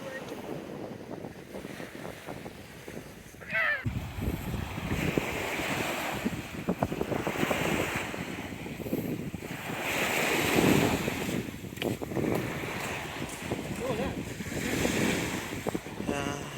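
Ocean waves wash onto the beach at Bukit Kandap, Batam, in a continuous rolling surf with heavy wind buffeting the microphone, swelling and easing over several seconds, with faint voices now and then.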